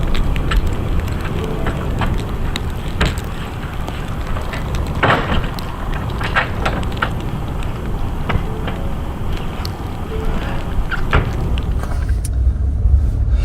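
A vehicle towing a snowmobile on a trailer drives along a road in snowy northern wilderness, a steady loud low rumble of engine and tyre noise with scattered small knocks and rattles throughout.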